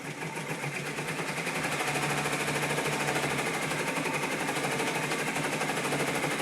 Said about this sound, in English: we are on the tack down stitch now